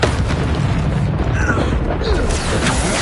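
An explosive spell goes off in a Hogwarts Legacy duel, a heavy booming blast that rumbles steadily through the clip with a voice mixed in beneath the noise.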